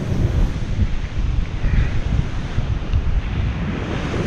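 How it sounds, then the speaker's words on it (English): Ocean waves surge and wash on a beach during surf fishing, with heavy wind buffeting the microphone, a steady loud roar without voices. "Waves."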